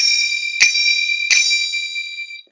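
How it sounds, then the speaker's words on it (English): Two bright metallic heavy-stroke strikes of small finger cymbals (zills), each left open to ring high and shimmering, sustaining and slowly fading. "the basic, which is a heavy stroke attack with an open ring"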